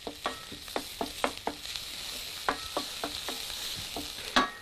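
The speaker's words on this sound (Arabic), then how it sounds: "يبقى بصله وتوم كده مع بعض، نقلب كويس جدا" Onion and garlic sizzle gently with butter in a pan while a utensil stirs them in a run of about a dozen quick, evenly spaced scrapes over a soft frying hiss.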